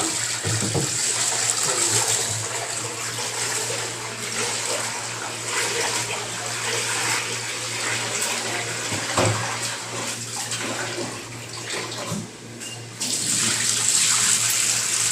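Running tap water splashes steadily while chicken is rinsed, with brief sloshing and handling noises and a short lull near the end.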